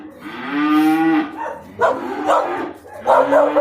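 Calves bellow inside a barn: a long drawn-out moo, then several shorter, rougher calls in quick succession, loud and close with no talking.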